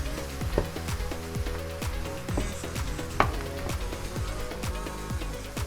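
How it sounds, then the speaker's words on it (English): Mushrooms and potatoes sizzle in a pan for a potato hash while being stirred, with a steady frying hiss and repeated scraping, clattering strokes of a utensil throughout, close and moderately loud. "Toss them in your pan and give it a good stir."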